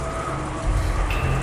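Steady rain with wind outside, a visual novel game sound effect, a loud continuous wash of falling water with a low rumbling swell partway through.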